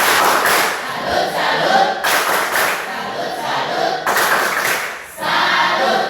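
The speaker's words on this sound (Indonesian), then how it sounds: "Sekali lagi mari kita tepuk salut." A group does a rhythmic tepuk salut clap in a classroom or training session, with three loud bursts of patterned clapping, each about two seconds long and separated by brief pauses.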